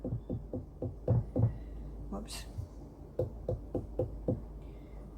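Knuckles rap on a ripe watermelon, giving a light, hollow, door-like knock repeated in quick bursts of several taps, close and clear, with a brief spoken exclamation partway through.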